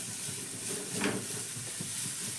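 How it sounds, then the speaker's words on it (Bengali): Vegetables are stirred and lightly fried in a pan, with a soft, steady sizzle and gentle scraping from the stirring, heard close and fairly quiet. "সবজিগুলো নাড়াচাড়া করে হালকা করে একটু ভেজে নিতে হবে"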